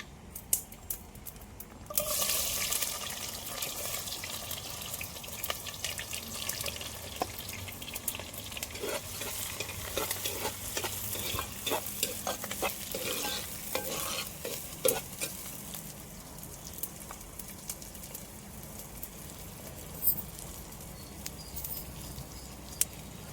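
Garlic and onion sizzle steadily in hot oil with fenugreek for a lady's finger curry, stirred now and then with scraping spoon strokes, close and continuous with no talking.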